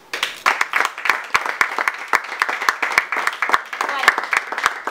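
A seated audience claps for a secretary general asked to stand at a formal event, dense applause with sharp individual claps standing out steadily across the clip.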